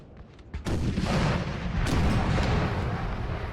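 Artillery cannon fire in the Napoleon Total War video game, with 12-pounder and 6-pounder guns, booms in after a quiet half second, followed by a sustained, rumbling roar of repeated blasts.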